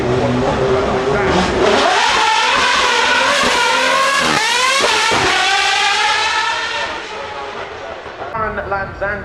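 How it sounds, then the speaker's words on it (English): A V12 supercar accelerates hard in one loud, close, continuous roar, its pitch climbing steadily with a quick gear shift midway before it settles and fades slightly. "the engine notes are low from the V12"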